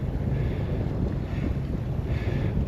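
Steady easterly wind buffets the microphone aboard an Allied Princess 36 under sail, a constant low rushing roar with faint water wash, continuous and close throughout.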